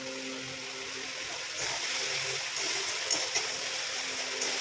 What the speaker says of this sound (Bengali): ভেজে নিয়ে জল ঢেলে দেবো